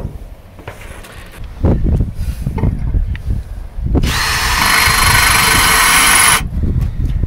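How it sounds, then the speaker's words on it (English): An ordinary cordless drill, not on hammer mode, bores holes in a roof tile during a roof penetration job. Short taps and knocks come first, then a loud, steady grinding whine that lasts about two seconds and stops abruptly. "Now, I'm drilling these holes with just an ordinary cordless."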